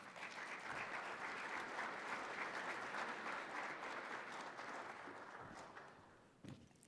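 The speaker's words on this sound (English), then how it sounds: "Everyone give him a round of applause." Sustained applause from a conference audience as a housing policy author walks on stage, dense and steady for several seconds before thinning out, with a couple of sharp knocks near the end.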